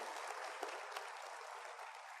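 A church congregation applauds together, a steady, even wash of many clapping hands heard from a slight distance at moderate level, with no talking over it.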